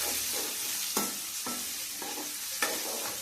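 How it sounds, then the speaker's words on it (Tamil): Onions fry in oil in a pan for a village-style fish curry, a constant close sizzle broken by several soft scraping strokes of a spoon stirring them. "இப்போ நல்லா மிக்ஸ் பண்ணி விட்டு கிளறி விடுவோம்."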